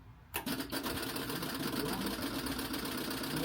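A camper van engine cranks and catches, then runs with a steady rough mid-pitched rumble after a brief quiet start.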